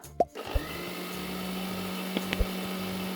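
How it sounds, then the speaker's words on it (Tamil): A kitchen mixer grinder grinding sago in its jar, a steady whirring motor hum after a brief clatter at the start, with a few small knocks and clicks partway through. "இதை மறுபடியும் நம்ம மிக்சி ஜாரில் போட்டு அரைச்சிக்கலாம்"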